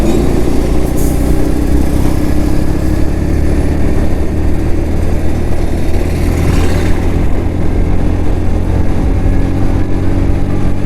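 A 125 cc motorcycle cruising at speed on a highway, its steady engine drone mixed with dense road and wind rush, loud and continuous throughout with no voices.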